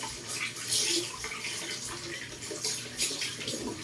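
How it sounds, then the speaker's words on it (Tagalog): Water runs and splashes while Shih Tzu dogs are bathed, a continuous hissing tap-like flow with irregular sloshing bursts, moderately close and without talk. "Madali lang po naman silang paliguan kasi hindi po masyadong takot sa tubig"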